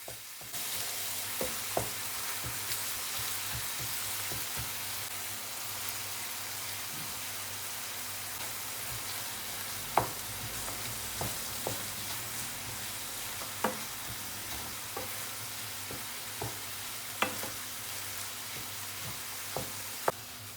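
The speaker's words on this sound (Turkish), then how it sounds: "İlk olarak kıymayı kavuralım arkadaşlar" Minced beef sizzles and fries in a pan for a crepe lasagna, a continuous hiss with scattered pops and occasional scrapes as it is stirred, close and steady throughout with no talking.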